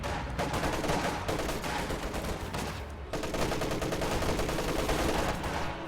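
Dense, continuous video-game gunfire from a war strategy battle, rapid overlapping shots and bursts forming a loud fusillade with a brief lull near the middle before resuming.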